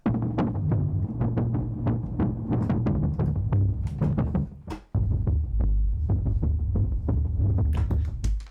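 A throbbing synth pulse repeats in a steady rhythm, low and buzzy with sharp filtered clicks on top, briefly cutting out halfway before resuming.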